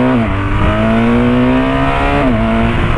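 A motorcycle engine revs and accelerates hard, its pitch rising through gear changes, loud and close with no talking.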